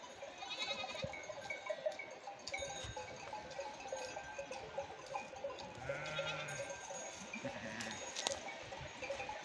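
Goats bleat on a mountain farm where sheep and lambs graze together, with several short calls scattered over a steady bed of livestock sounds and faint bell clinks.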